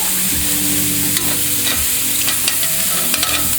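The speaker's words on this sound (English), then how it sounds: "So again, add a little oil. Now we're going to saute," New York steak sautés in oil over a lowered flame, a loud, dense sizzle close by with frequent stirring scrapes and light clicks running through it.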